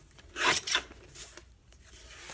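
A short, dry rasp of a cutter slicing a strip of paper for a lap book, close and brief, followed by faint light rubbing.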